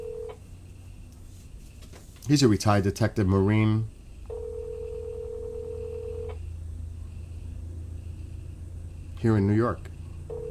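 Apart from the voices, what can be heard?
telephone keypad dialing tones while placing a call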